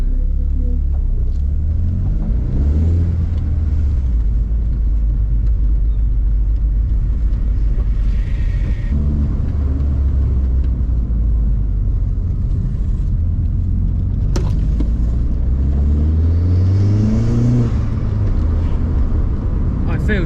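A 1983 Mk1 Golf GTI with a 281-horsepower 1.8 turbo engine in an 800-kilo car drives with a loud, steady low rumble, rising in pitch twice under acceleration, with a person talking over it.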